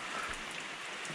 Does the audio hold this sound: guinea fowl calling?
no